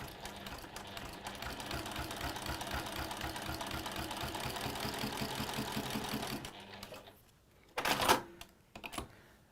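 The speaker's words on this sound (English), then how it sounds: "And just sewing on that line that we marked that's in the middle of the rectangles." A sewing machine runs steadily for about six seconds, stitching along a marked center line across fabric rectangles, with a rapid rhythmic chatter, then stops and a few louder handling noises follow.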